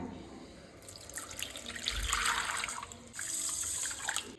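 Water pours over washed rice and fenugreek seeds in a bowl for soaking, a soft, close splashing and trickling that swells in the middle and again near the end, fairly quiet overall.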